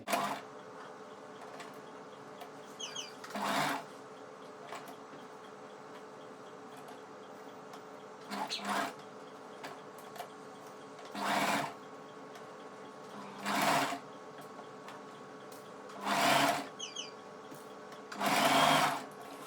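A sewing machine stitches a fabric tail for a robotic pet coat in short bursts of rapid, whirring stitching, each a second or two long, separated by pauses with low background hum.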